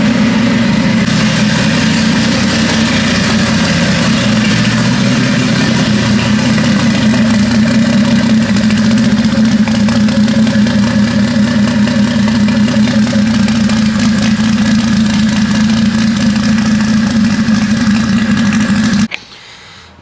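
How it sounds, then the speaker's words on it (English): A BMW E30's engine idles steadily while warming up before a dyno session, a loud, even rumble held for about nineteen seconds before cutting off abruptly. "just got the E30 started. We're letting it warm up"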